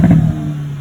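A 2022 Hyundai Kona N exhaust gives a brief, loud rough burst that could be crackles and pops, then settles into a low, steady idle drone, heard close by with the door open.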